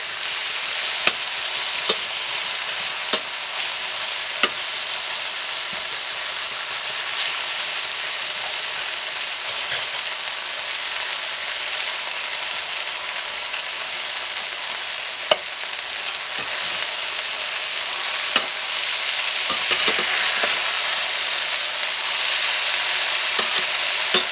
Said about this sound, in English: you keep stirring it around until you don't see any more pink